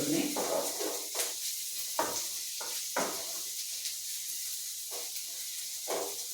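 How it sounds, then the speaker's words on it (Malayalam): Elephant yam sautés in a pan until golden, with a soft continuous sizzle broken by repeated scraping strokes of stirring at an uneven rhythm, close and moderately quiet. "ഇത് നല്ലൊരു ഗോൾഡൻ കളറാകുന്നത് വരെ ഒന്ന് വഴറ്റി കൊടുക്കണേ."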